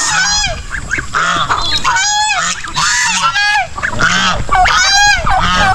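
A flock of turkeys, just released, calls loudly and excitedly up close, overlapping honking gobbles in quick bursts.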